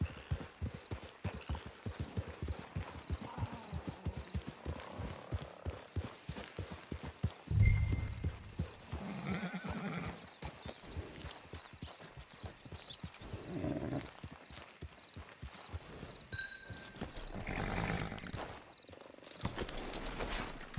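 Horse hooves clip-clop steadily at a walking pace near a camp, with occasional louder thuds and a brief whinny-like sound among the footfalls.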